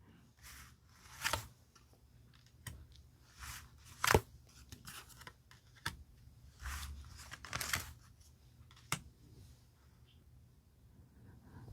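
Tarot cards are shuffled and five are drawn, giving intermittent papery swishes, snaps and rustles spread over several seconds with quiet gaps between them. The sounds are fairly close and soft.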